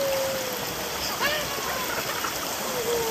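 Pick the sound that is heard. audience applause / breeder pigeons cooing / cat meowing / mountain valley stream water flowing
mountain valley stream water flowing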